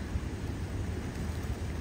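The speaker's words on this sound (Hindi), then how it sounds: "ये देखें फुल तेज़ बारिश स्टार्ट हो गई है" Heavy rain pours down during a violent storm in Dubai, a steady, dense wash of noise without pause, fairly loud and close, with no voices over it.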